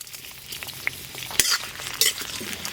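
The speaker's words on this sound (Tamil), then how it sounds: "அப்படியே எண்ணெயிலே நல்லா வதக்கிக்கிறோம்." Eggplant sautés in hot oil in a pan for a South Indian eggplant curry. A constant quiet sizzle and crackle runs under a few scraping clicks as the pieces are stirred, with no talking.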